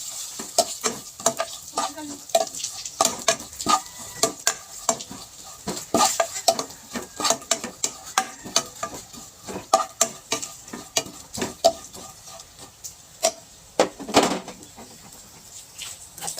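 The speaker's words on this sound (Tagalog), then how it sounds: "Lagay na po natin ang ating dilis na pangsahog sa ating gulay." Dried anchovies sizzle and crackle in hot cooking oil, a dense run of sharp pops and spatters over a steady frying hiss, close and fairly loud, with no talking.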